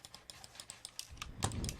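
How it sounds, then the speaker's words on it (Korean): A computer keyboard is pounded hard during a PUBG session, with sharp key clacks coming in quick irregular bursts that grow denser and heavier toward the end. "이럴 땐 한번 키보드를 완전 두들겨줍니다"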